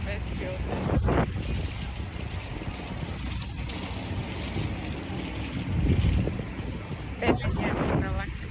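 Steady rumble of a boat moving over the open Pacific Ocean near the Pearl Islands, Panama, with wind buffeting the microphone and a few muffled voices in the background.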